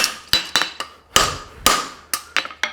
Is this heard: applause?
no